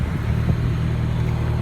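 A 2009 Mini Cooper S engine running just after starting, a steady low idle rumble heard up close with no talking.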